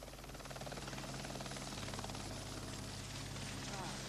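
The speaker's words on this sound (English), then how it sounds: "A regular visitor, flying his own jet helicopter, is his son Tommy" A jet helicopter flies overhead, its steady rotor thump and turbine whine droning continuously at moderate distance while someone speaks over it.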